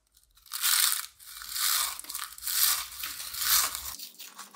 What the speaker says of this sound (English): Let's see which spicy snake has the best crunch.